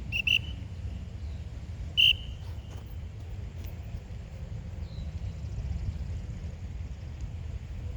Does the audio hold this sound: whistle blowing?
yes